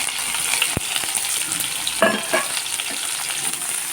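Onions sautéing in hot oil with green chillies for a tomato thokku, a steady close sizzle with a few sharp scrapes of a spatula stirring the pan, no voices.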